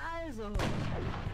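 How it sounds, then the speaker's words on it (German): A single loud gunshot in the turn-based strategy video game XCOM Enemy Within cracks sharply and then booms out in a decaying echo, right after a brief voiced tone in the game's audio. "Und dann kommt noch ein Schuss zwischendurch."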